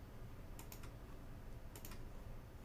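Someone types letters on a computer keyboard in two quick clusters of light, close key clicks over a faint steady hum, with no talking.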